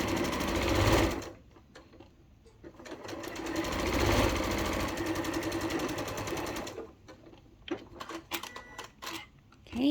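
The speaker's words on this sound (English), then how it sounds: "so just spin them and then sew straight stitch" Sewing machine running a straight stitch on a beginner reusable bag, fast loud rattling bursts of stitching with short pauses and backstitch stops, close up and without talk.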